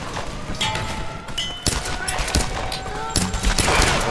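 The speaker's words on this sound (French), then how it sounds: "On va devoir sortir le flingue là." Rapid gunfire from a firearm in the Tomb Raider video game, a few sharp loud bursts over continuous game ambience and music.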